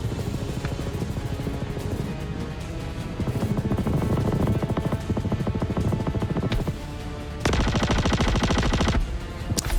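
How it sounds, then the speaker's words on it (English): NPC crew gunfire in the game Star Citizen, sustained rapid automatic fire in loud continuous bursts, dense and rattling throughout, with a sharper, brighter volley near the end. "Oh, they're shooting through walls,"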